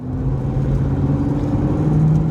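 A car on a test drive with a newly installed transmission, its engine giving a steady low droning rumble and whir that builds slightly as it accelerates, heard from inside, no voices.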